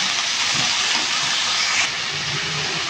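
Vegetables hit a hot pan where garlic has been frying for a coconut-milk vegetable stew, raising a loud, steady broadband hiss that runs throughout. No talking is heard over it.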